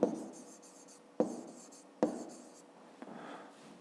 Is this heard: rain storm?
no